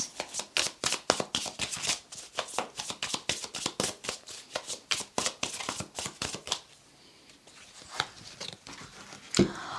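Tarot cards are shuffled close up before a catalyst card is drawn, giving a rapid run of crisp riffling slaps that thins to a lone flick after a brief pause.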